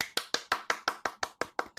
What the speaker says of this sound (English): Everybody applause for Jeff.